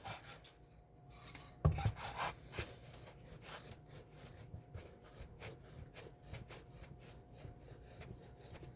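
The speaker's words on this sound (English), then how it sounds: "Is it going to break my chisel off? Oh, I'm going into the wood." A chisel bites into wood with a sharp knock, then scrapes and rasps in a run of short, quiet strokes against the grain, close and unaccompanied by speech.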